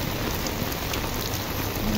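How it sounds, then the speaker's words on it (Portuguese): Heavy rain pours down steadily during street flooding in Recife, a dense, loud, unbroken hiss of water with no voices. "Muita chuva, muita água."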